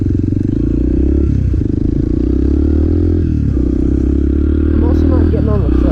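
Motorcycle engine at light throttle, a loud steady low drone with slight rises in pitch, close and constant, with wind rumble mixed in.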